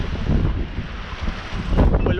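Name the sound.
waves going by a Contessa 26 sailboat in wind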